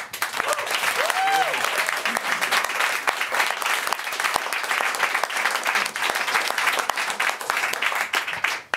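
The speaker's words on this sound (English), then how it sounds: "a round of applause to get everybody started" A crowd applauds at a national economics quiz competition, dense continuous clapping close and loud for the whole stretch, fading slightly at the end.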